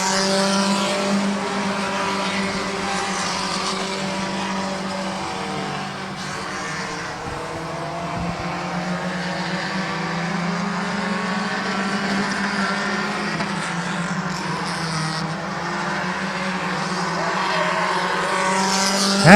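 Stock cars racing at Midvale Speedway, a continuous roar of engines from a pack of cars circling the track, steady and loud throughout, with an announcer's voice faintly audible beneath.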